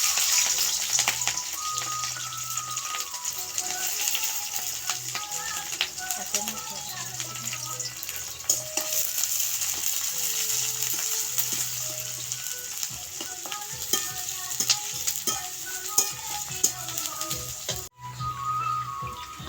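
Onions and green chilies sizzle in a pan, a steady hissing fry with scattered crackles and occasional spoon scrapes, a faint tonal hum recurring in the background.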